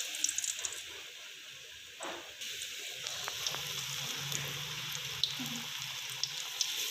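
Potato slices for crispy aloo chips dropped into hot oil, a soft bubbling sizzle that starts faintly and grows steadier after a couple of seconds, with small clinks and no talking.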